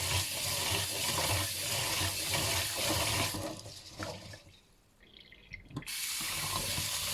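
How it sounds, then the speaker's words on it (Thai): Tap water runs into a sink while about half a kilo of sticky rice is rinsed. The close stream gushes, drops away to a quiet gurgle partway through, then surges back on at full flow. "ล้างน้ำให้สะอาดก่อนค่ะ"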